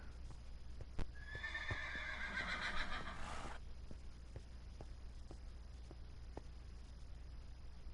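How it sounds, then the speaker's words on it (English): A Minecraft horse gives one loud, shrill whinny lasting a couple of seconds, followed by slow, steady hoof clops on a hard surface. "It definitely sounds like horses."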